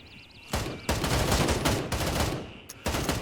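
Gunfire in the tactical shooter game Gray Zone Warfare: several loud, close bursts of shots crack out in quick succession, with brief quiet gaps between them.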